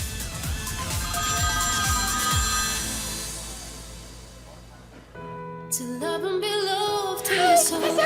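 A phone ringing: a melodic ringtone plays loudly, fades out toward the middle, then starts again with bright tones and carries on to the end, with no talk over it.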